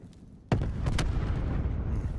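A single loud bomb blast in a battle royale video game bursts in abruptly, followed by a sustained rumbling roar and a second flare of debris noise, with no talk over it.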